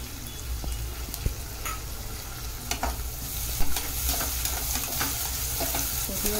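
Onion and tomato stir-fried in oil for matar pulav, a close steady sizzle broken by several sharp spoon clicks and scrapes against the pan, with no talking.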